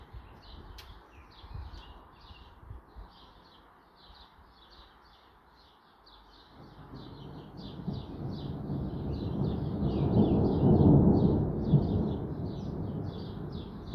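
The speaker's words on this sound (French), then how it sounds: "Il est pas ouf cet orage en vrai." Low, rolling thunder from a weak to moderate thunderstorm swells in the second half and grows loud before easing slightly, while small birds keep chirping steadily in the background.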